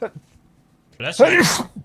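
A single sharp human sneeze bursts out loud and close after a short quiet pause, preceded by a brief bit of talk.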